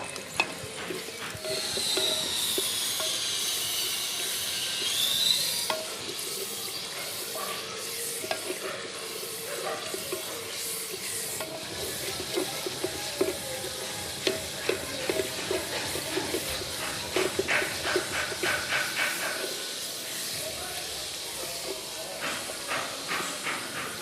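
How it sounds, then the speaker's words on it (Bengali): Sliced onions frying in hot oil for aloo dum handi biryani, a continuous close sizzle and hiss with intermittent stirring and scraping, louder at first and then settling into a crackling fry. "তেল গরম হয়ে গেছে এবার দিয়ে দিচ্ছি পেঁয়াজ পেঁয়াজগুলো লাল লাল করে ভেজে নেবো"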